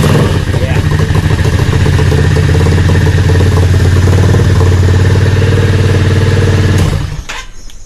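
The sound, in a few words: Yamaha XVS650 motorcycle engine starting with Dynatek ignition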